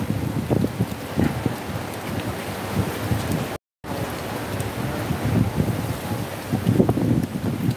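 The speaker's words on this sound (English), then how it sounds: "The wind is so strong" Strong wind blowing outdoors at a koala sanctuary in Brisbane, a steady broadband roar with gusty low rumbles against the microphone, continuous and loud for several seconds with a brief dropout midway.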